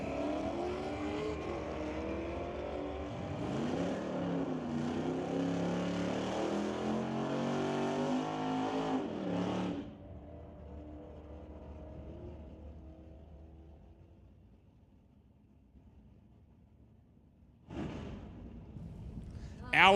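A Pontiac and a 6-liter Dodge drag race, with loud roaring engines accelerating and shifting at a distance for about ten seconds, then quieter track ambience and a brief later burst of engine noise.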